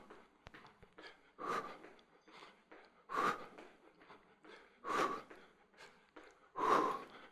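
Heavy rhythmic breathing comes from someone during a beginner lower-body workout after jump-rope moves. Faint, close huffs and exhales repeat in steady waves every couple of seconds.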